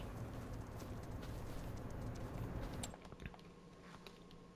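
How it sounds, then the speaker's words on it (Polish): Horses on a farm in the Farming Simulator 25 video game, a steady clip-clop of hooves with ambient farmyard noise that thins out partway through, fairly faint and without talking. "O, nawet mamy tutaj konie."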